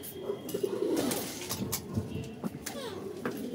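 A female pigeon coos close by in a few soft, throaty bursts, low rolling calls repeating over a noisy background.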